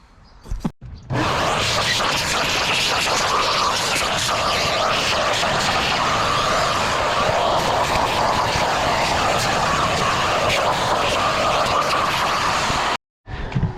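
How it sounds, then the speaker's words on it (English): Shop vac running while cleaning out a Honda Accord under restoration: a loud, steady whooshing roar that switches on after a second, holds for about twelve seconds, then cuts off. "The shop vac keeps it low and it keeps it sucked in."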